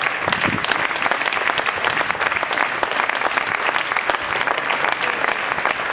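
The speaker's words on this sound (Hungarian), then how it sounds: "Most egy kicsit lehet hosszabban tapsolni egész nyugodtan." An audience applauds at a wine award ceremony, the XII Pannon Bormustra prize giving, with sustained, even clapping from many hands that stays loud and unbroken, no voices on top.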